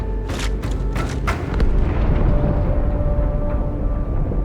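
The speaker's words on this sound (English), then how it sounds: "That explosion came from inside the Athens." The Athens exploding in Halo 2: Anniversary, with several heavy booming bursts in the first second and a half, then a loud sustained rumble trailing off.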